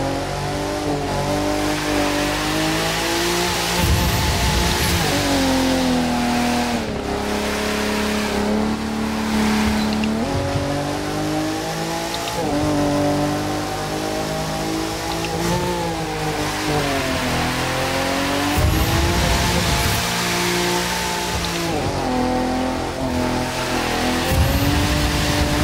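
Nissan 370Z drifting in the video game The Crew 2, a loud engine revving up and down through gear shifts with repeated tire squeals across the run and no voice.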